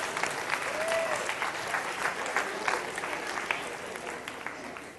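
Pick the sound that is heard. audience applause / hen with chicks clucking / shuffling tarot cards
audience applause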